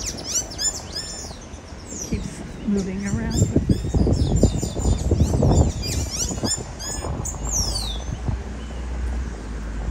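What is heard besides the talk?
birds chirping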